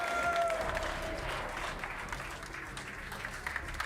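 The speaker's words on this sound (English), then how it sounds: "Round of applause for Mouse Sport." A crowd applauds the esports team Mousesports in a broad, steady wash of clapping at a signing ceremony. A few faint tonal whistles or cheers ride over it early on.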